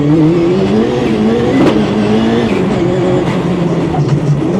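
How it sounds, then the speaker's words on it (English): A 600-horsepower Ford Escort race car, weighing just over a ton, pulls hard on a racing circuit toward the first turn, its engine note rising and shifting loudly and continuously at close range, with no voices. "Paul sets off in the Escort and approaches turn 1"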